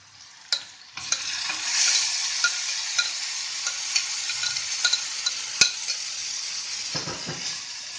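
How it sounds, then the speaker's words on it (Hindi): Besan gatte masala being stirred in a kadhai, with a steady sizzle of frying oil and a few scraping strokes and light clinks of the spoon against the pan, fairly close and without talk. "अब इसको हम चलाएंगे थोड़ा सा और फिर डाल देंगे प्याज का पेस्ट।"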